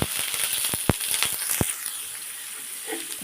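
Mustard seeds, curry leaves, onions and urad dal frying in hot oil, a soft steady sizzle with a few sharp pops and crackles early on, close and fairly quiet, no voices.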